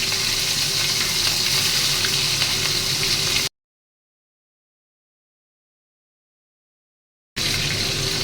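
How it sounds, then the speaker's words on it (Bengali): Salt-rubbed prawns lightly frying in a pan, a close, even sizzle that cuts out to silence partway through and then resumes. "এটাকে আমি হালকা হাতে ভাজা করব"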